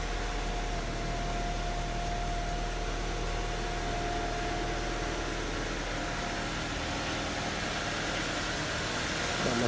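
A 1997 Honda CR-V engine idles at a steady, even pace throughout, with a constant low hum under a hissy background and no voices.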